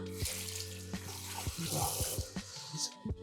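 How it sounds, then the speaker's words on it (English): Water running from a tap into a shaving bowl as a brush is pre-soaked, a steady splashing stream with intermittent clinks and knocks, close and moderately quiet. "Let's just pop in some water for this, for the bowl, and I'll pre-soak my brush"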